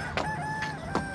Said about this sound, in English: Is that a fucking real rooster, man?